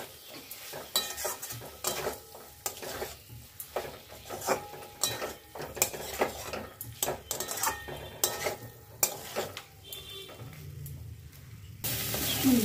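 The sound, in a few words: stirring and frying cauliflower and potato in spiced pan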